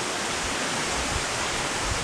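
The waterfall at Sombrio Hidden Falls on Vancouver Island gives a continuous, dense rushing roar that fills the whole stretch, steady and enveloping, with no voices.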